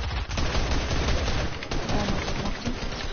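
Fortnite gunfire: a dense, near burst of rapid shots that runs without a break, heavy and clipped throughout, with no voices over it.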